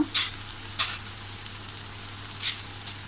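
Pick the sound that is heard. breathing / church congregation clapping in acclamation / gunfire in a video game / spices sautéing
spices sautéing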